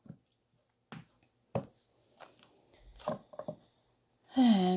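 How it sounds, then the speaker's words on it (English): Tarot cards being cut and tapped into a deck: a few sharp, separate slaps and riffles with quiet gaps between, close and soft, then a brief hum or voice-like tone at the end. "I'm going to just cut the deck."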